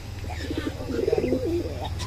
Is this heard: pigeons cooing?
yes